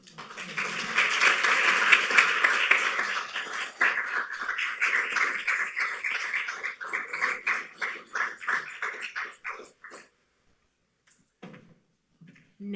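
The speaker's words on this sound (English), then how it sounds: "Another round of applause for both of our poets, please." Audience applause after a poetry reading at The Dalí: a crowd claps steadily and fairly loud, thinning into scattered claps before fading to near silence, with a brief sound at the very end.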